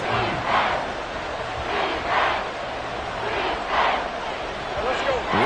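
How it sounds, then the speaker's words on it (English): A packed American football stadium crowd roars near the goal line, the din swelling and falling in loud rhythmic chanting waves over a steady wash of noise. "This crowd doing all they can"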